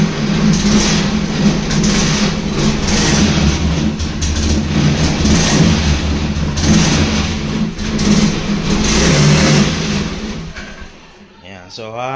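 A Honda Beat scooter engine runs and revs close and loud with an uneven, misfiring note, dropping off near the end, while someone talks over it.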